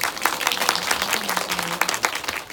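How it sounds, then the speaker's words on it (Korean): Audience at a book talk in a Hongdae cinema venue breaks into steady applause, dense overlapping claps filling the room evenly without a break, with a faint voice murmuring underneath. "박수 한번 부탁드립니다."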